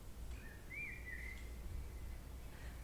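Birds call faintly in the morning air, one clear chirping, whistled phrase rising and sliding before fading, with a softer call near the end over a quiet, steady background.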